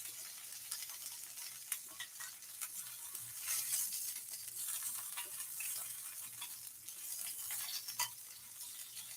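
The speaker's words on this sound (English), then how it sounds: "That's the liquids in the zucchini splattering" Zucchini frying in a pan, its liquids splattering with a continuous soft sizzle and scattered sharp pops and spits, fairly quiet and steady with no talking.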